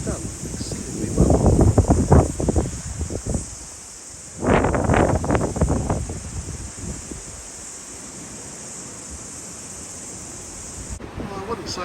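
Strong gusting wind at a catamaran build site in Whangārei, New Zealand: two loud, rushing gusts buffet the microphone, then ease into a quieter, steady breeze.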